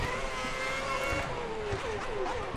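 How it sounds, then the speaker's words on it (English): Renault Formula 1 car in the F1 2010 video game, engine note falling steadily under heavy braking with descending whine and downshift blips, loud and continuous, no talk over it. "But now we're braking heavy for the second to last corner there."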